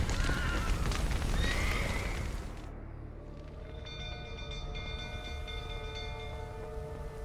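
A horse whinnies loudly at first over clattering noise in the video game The Witcher 3: Wild Hunt, after a roof collapse, then the scene quiets to a lower rumble with faint tonal ambience.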